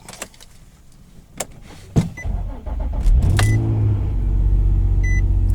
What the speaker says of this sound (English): Now let's do the really cold startup